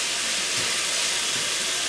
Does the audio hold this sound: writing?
no